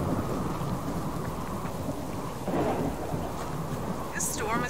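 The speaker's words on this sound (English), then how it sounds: "storm is extremely loud" Thunderstorm with heavy rain in the Subsistence video game, a dense steady downpour hiss with a deep rumble of thunder swelling midway, loud and continuous, with a brief bird-like chirp near the end.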